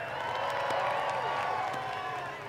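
A grandstand crowd at Rockford Speedway spectator drags cheers for a Buick LeSabre, a far-off swell of yelling and whooping with scattered claps that holds steady, then eases off.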